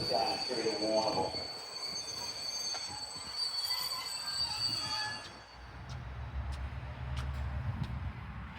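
A V/Line locomotive-hauled train on the Warrnambool service squeals with high, sustained, ringing wheel tones at the Geelong station platform for about five seconds, then fades. A low rumble of the train continues beneath.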